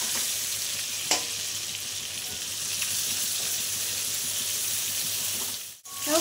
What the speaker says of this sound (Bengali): পটলটা একটু আমি ভালো করে ভেজে নেব